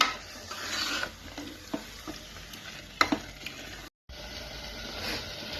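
Chicken curry is stirred in a pan over a high flame, with scraping spoon strokes and occasional clanks over a soft, continuous sizzle.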